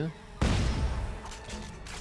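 A single heavy shotgun blast in the video game Dead Space 3, a loud close boom that rings out and decays, with a voice talking faintly around it.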